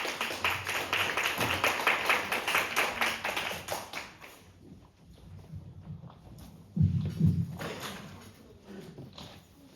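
At a tourism-site revitalization contest, a small audience claps for about four seconds, a brisk, fairly close patter that fades into quiet room tone before a few stray thumps and taps.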